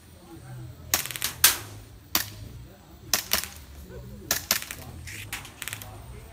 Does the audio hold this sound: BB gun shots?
yes